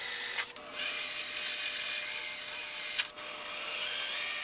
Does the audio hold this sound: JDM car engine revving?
no